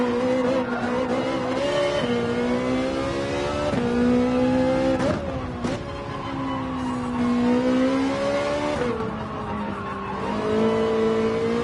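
Ferrari race car in Gran Turismo 7, its loud engine revving up and down through gear shifts while tyres squeal and skid in short bursts, with no voice over it.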